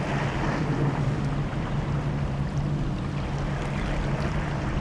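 Wind and sea waves wash steadily over a small uninhabited, fog-prone island that serves as a seabird breeding ground, a continuous broadband roar with wind buffeting the microphone and no voices.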